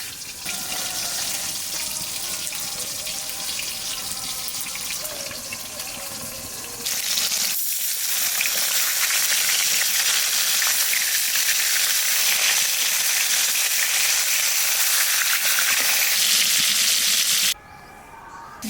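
Fish sizzling and frying in hot oil in a pan with eggplant being cooked, a loud steady crackle that jumps louder partway through and runs continuously, with no talking.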